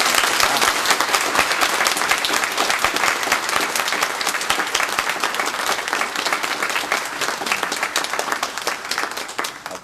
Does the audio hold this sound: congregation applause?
yes